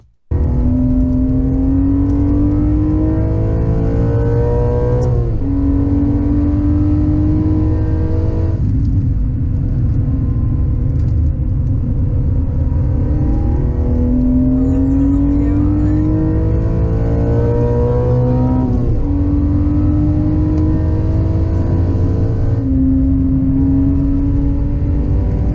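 BMW E46 M3 with its S54 straight-six lapping Bedford Autodrome on a trackday, loud and sustained from inside the car, rising through revs with repeated upshifts and a steady rumbling drone, no talk.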